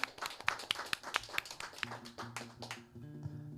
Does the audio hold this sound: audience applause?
yes